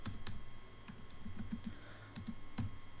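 Keys on a computer keyboard clatter in a quick, irregular run of taps as a command is typed at a Windows command prompt, close and clear, with no talk over it.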